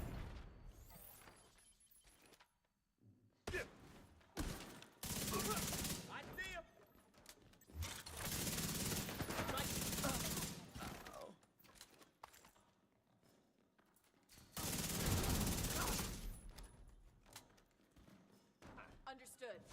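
Video game gunfire from The Division 2, with bursts of rapid automatic fire and heavy sustained volleys separated by quieter gaps, while a player talks over it.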